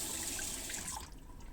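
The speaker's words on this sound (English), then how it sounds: "just wash it off with the tap water." Tap water runs steadily from a faucet into a sink while a razor is rinsed of lather and hair during wet shaving, a soft hiss that fades near the end.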